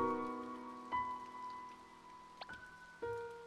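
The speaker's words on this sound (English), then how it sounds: "Wait, in the rain? Yes, in the rain, come on!" Rain falls in the To the Moon video game, a steady soft patter held under sustained, gentle musical tones that shift a few times.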